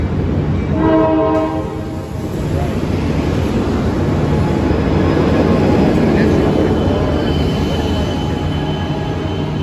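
Amtrak Capitol Corridor train at Oakland Jack London station, a loud close rumble of rolling wheels and railcars with a brief horn-like tone near the start and some faint wheel squeal.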